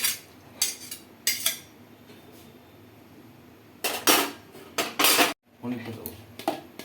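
A lid goes onto a pan of mixed vegetables and cauliflower, with a cluster of metallic clanks and rattles of cookware, some short knocks and a brief silence between, close by.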